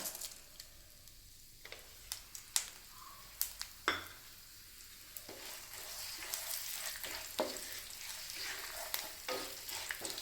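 Whole fennel seeds, cardamom, star anise, cinnamon and cloves fry in hot oil for an egg curry, giving a steady close sizzle broken by sharp clicks and scrapes of stirring, with no talking.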